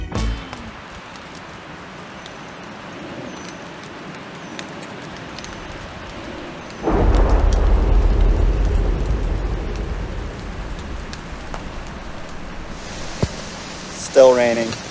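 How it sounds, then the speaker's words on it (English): Steady rain patters on an overgrown rural homestead, with a low rolling thunder rumble swelling partway through and a voice briefly heard near the end. "Still raining."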